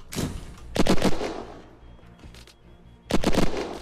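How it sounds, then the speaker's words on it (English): A flashbang grenade goes off in a multiplayer survival game, a sharp blast followed by a second burst and a later crack, close and loud with no talk. "Flashbang, dude."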